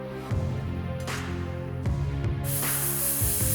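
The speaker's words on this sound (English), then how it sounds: "Release the pressure line carefully until you hear the sound of escaping air" Compressed air escaping from a released pressure line on a VW Phaeton air suspension module, a steady broad hiss with knocks of handling, then a harsher, louder rush of air near the end.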